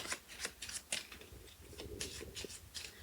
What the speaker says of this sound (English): We're going to shuffle those up